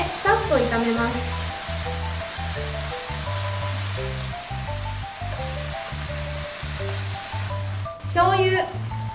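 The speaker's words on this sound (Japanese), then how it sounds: "豆苗を入れてさっと炒めます。" Pea shoots tossed with lotus root in a pan for kinpira give a steady frying sizzle that sits beneath prominent background music throughout.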